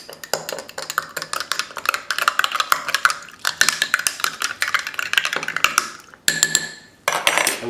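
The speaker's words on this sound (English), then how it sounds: "We're going to give that a stir." A yeast mixture stirred in a beaker, with rapid, bright clinking and tapping of the stirrer against the glass in steady bursts, pausing briefly near the end before resuming.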